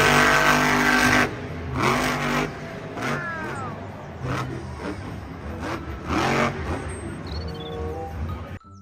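A toy monster truck engine revs in a few rising bursts with accelerating whines, fairly close and loud, with no talk over it.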